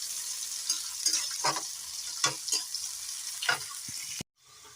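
Onions fry in a pan for an ola potato curry, a close steady sizzle broken by scraping stirs, before the sound abruptly drops away near the end.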